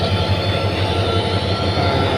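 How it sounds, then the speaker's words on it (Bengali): Cox's Bazar tourist train out of Dhaka rolls steadily along, a continuous loud rumble of wagons with a low, pulsing drone and no voices. "কক্সবাজার পর্যটক ট্রেনখানি ঢাকা স্টেশন থেকে ছেড়ে গিয়েছে 6টা 15"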